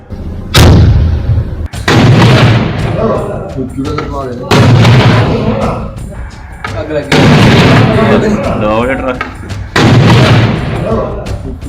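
Repeated loud bursts of gunfire ring out in a firefight between security forces and militants hiding in a truck at Nagrota, Jammu, each crack and boom followed by rumbling echo, with several separate volleys spaced a few seconds apart.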